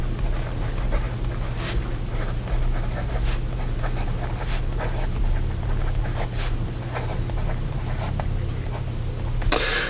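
A Birmingham Pen Company Model A fountain pen with a Knox nib scratches across paper in a run of short, light strokes, heard fairly close over a constant low background hum without talking.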